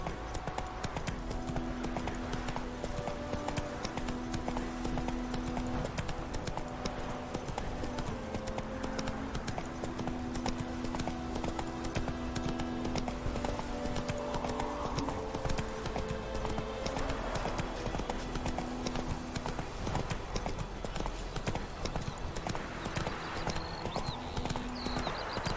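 Roach, the horse in the video game The Witcher 3: Wild Hunt, trots with a steady, even clip-clop of hooves that runs the whole time beneath a continuous layer of game music and ambience.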